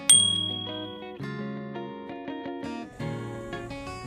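A bright bell ding rings out, followed by a short chiming melodic jingle of clear tones.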